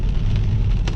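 Rain falls in a steady, close patter of drops on a surface, dense and continuous, with no one speaking.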